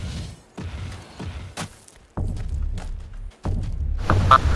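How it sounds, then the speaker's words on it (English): A thumper device in the FireFall game pounds the ground with heavy, booming thuds arriving in uneven bursts, loud and close with a deep rumbling body. "And it will start thumping."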